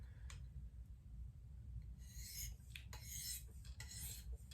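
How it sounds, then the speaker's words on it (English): A KME sharpening stone glides lightly along the edge of a Benchmade Steep Country knife to remove the burr, making a few soft, close, hissing rasps in short strokes over a low background hum. "I'm just gonna come into the edge so light, and I'm just trying to cut that burr off"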